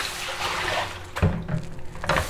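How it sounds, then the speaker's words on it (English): Barley being rinsed in water, a steady swishing pour followed by a few low sloshes and splashes close by. "I'll do the third rinse."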